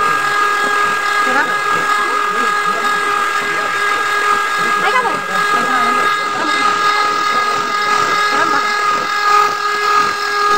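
An electric beater whips cream for icing a one-pound cake, giving a steady, loud motor whine with a constant hiss that runs unbroken for the whole stretch.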